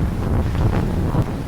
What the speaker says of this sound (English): I've never been in a marina with such wind before